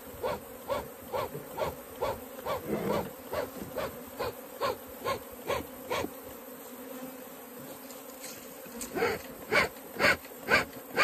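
A steady swarm of bees buzzes close by as they are moved into a wooden hive box, the drone pulsing in regular rhythmic surges with no talk.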